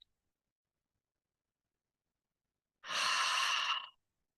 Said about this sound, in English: as we breathe in, as we exhale, we're going to say, ha